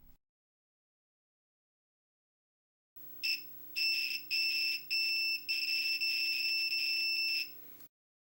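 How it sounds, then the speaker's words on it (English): A multimeter on continuity mode beeps as cable wires are tested, giving a run of short, sharp high-pitched tones, some brief and some held for a second or more, close and clear against silence. "Now take your multimeter on continuity mode and give each wire one final test."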